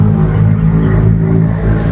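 A motorcycle engine revs hard and steadily, a loud, close, continuous throaty drone with slight surges in pitch and no voices over it.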